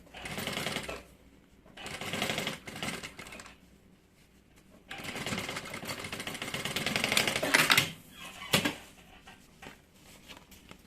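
A sewing machine stitches seams on a bag, running in close bursts of rapid mechanical whirring separated by brief pauses, with a final short run and a few clicks near the end.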